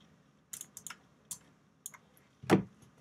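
A computer keyboard clatters close by in short, irregular bursts of clicks and taps, ending on one heavier keystroke, over a quiet background.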